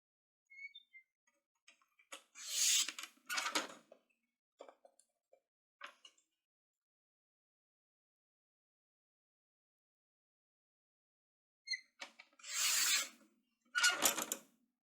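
A paper cutter slices a half-inch strip off a sheet for a large folio craft project, giving short dry scraping strokes in two separate bursts with a quiet pause between them, near and fairly soft.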